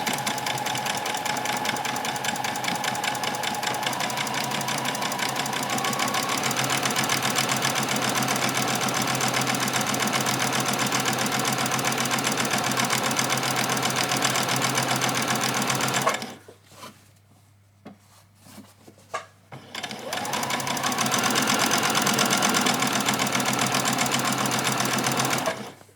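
A sewing machine stitches a child's dress in a fast, steady mechanical whir, stops for a few seconds of near quiet, then resumes stitching at full speed before halting.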